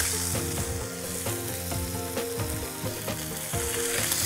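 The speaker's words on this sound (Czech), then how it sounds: "a následně se to maso přestane opékat, ale začne se tak divně vařit" Beef shank searing in a hot pan, a steady loud sizzle and crackle of frying meat with faint stirring clicks throughout, no voices.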